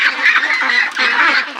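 Pekin ducks on a farm give loud, close, nasal honking quacks in a rapid overlapping burst, with a brief pause before the calls resume.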